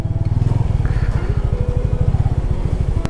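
Motorcycle engine idling near a mountain temple in Ukhimath, a steady close putter with a rapid even pulse, chugging on throughout after being parked.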